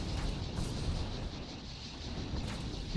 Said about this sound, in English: accidental missile fire